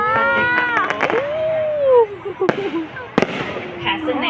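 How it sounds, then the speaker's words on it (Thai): Fireworks burst over Laem Chabang Health Park at a Mother's Day royal celebration, rising whistles and a couple of sharp cracking bangs sounding fairly close, with crowd noise and a voice mixed in. "เพื่อ ให้การแสดงพลุในค่ำคืนนี้นะคะเป็นพลุที่สวยสดงดงามที่สุดค่ะ"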